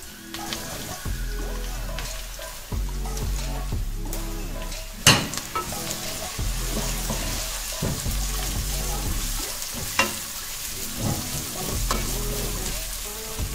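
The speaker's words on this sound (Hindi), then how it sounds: "अब हम इसमें शामिल कर देंगे प्याज।" Onions drop into hot mustard oil and fry, a steady close sizzle with repeated scraping and clattering stirs and a couple of sharper knocks against the pan; no one speaks over it.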